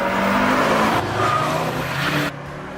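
A Mercedes-AMG C63 S E Performance hybrid with 620 hp accelerates hard on a track, giving a loud, sustained engine roar that shifts pitch at each gear change and then drops off.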